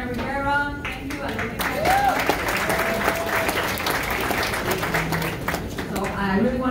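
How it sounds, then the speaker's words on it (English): A crowd at a community council breakfast applauds steadily, a dense wash of clapping that carries on throughout the clip. "hand applause to Angela and Hannah Rivera"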